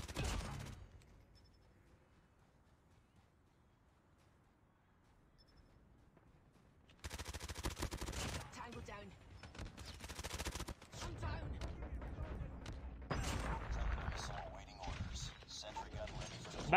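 Gunfire and sentry gun fire in Call of Duty Mobile, bursts of rapid shots in a loud, dense stretch after a quiet opening, with game effects layered on top.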